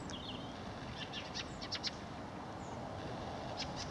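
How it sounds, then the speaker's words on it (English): Faint, scattered chattering calls of a flock of fieldfares come from a distance over quiet outdoor ambience near Pewsey White Horse, Wiltshire, a few short bursts clustered together. "There is a flock of fieldfares up there, very nervous birds."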